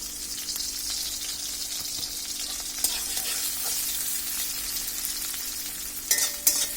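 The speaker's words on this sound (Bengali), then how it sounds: "এখন আমি পেঁয়াজ কুচি আর রসুন কুচিগুলো দিয়ে দিব।" Chopped onion and garlic fry in a pan for vuna dal, making a strong, steady sizzle close by, with a few stirring clatters near the end.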